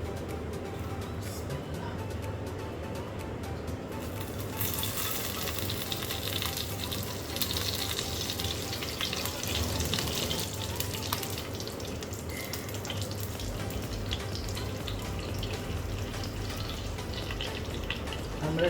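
Vermicelli fries in ghee with bay leaf, cinnamon and cardamom, giving a continuous close sizzle with some stirring and a louder wet hiss partway through.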